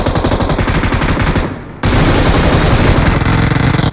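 Automatic gunfire in a BGMI (PUBG Mobile) match, with dense rapid bursts of shots running almost continuously, a brief drop around the middle, then sustained loud firing again.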